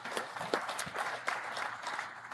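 Thin, sparse applause from an audience at an international AA world convention, a handful of scattered claps and a faint patter of hands over a muffled hall ambience.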